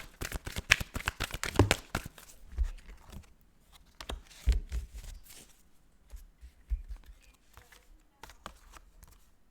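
Tarot cards shuffled by hand in a run of quick riffling flutters and soft slaps, loud and close at first and then thinning into scattered lighter shuffles with pauses between.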